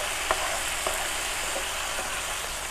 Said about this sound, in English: this is sizzling chicken stir fry that we're making here at the Marion County Extension Office